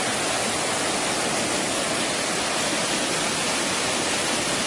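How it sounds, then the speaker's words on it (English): Falling water pouring over a river weir beside a mill hotel in Galicia, a steady, dense, unbroken roar heard close with no other sounds. "Falling water"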